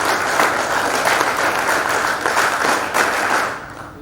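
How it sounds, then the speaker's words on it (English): Audience at a silver jubilee function clapping together on cue, steady dense applause from a crowd that holds for a few seconds and then begins to fade. "Ready, clap."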